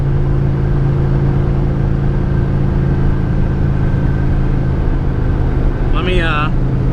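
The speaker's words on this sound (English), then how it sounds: "Yeah, it was burning the tires, but I had a good air fuel ratio." A Chevrolet Colorado truck engine drones steadily and loudly during a tire-burning burnout, a constant low rumble that barely changes, with a brief voice near the end.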